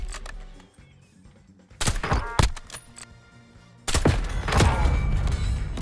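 Sniper rifle shots and gunfire bursts in Call of Duty Warzone on the Verdansk map, sharp loud cracks near two seconds, then a dense burst of firing from about four seconds on, with no talk.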